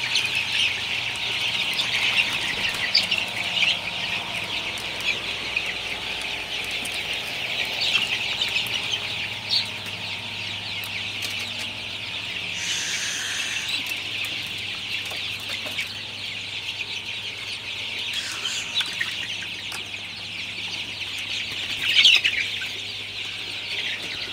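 Sonali super hybrid chicks in a poultry shed peep in a dense, continuous chorus that carries steadily from start to finish, with occasional soft flutters and scuffles among the flock.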